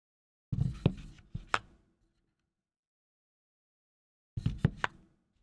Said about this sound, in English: That is a clunk of a space bar.